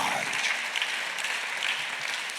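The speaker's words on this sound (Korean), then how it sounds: "아까 본 사람만 박수해" A church congregation at a Sunday worship service claps together in a brief, dense burst of applause that stays moderately loud and even throughout, with no speech on top.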